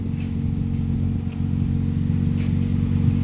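A Toyota Vios with a heavy smoking problem idles with a steady low engine drone, a mild rise in revs, and faint clatter, heard up close with no talk.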